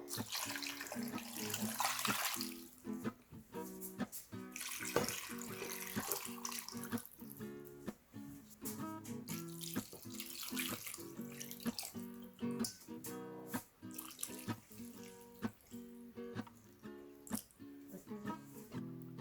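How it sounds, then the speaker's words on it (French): Water runs from a tap into a pot for Thai chicken noodle soup, kuay tiaw kay, a faint splashing flow with clinking, knocking sounds in between, heard alone. "Je mets de l'eau."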